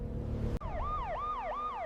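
Wailing emergency sirens rise and fall in repeated sweeps near a contested border after a night blast, loud and steady over a low rumbling background, starting abruptly partway in.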